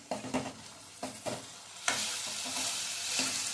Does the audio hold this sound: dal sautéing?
yes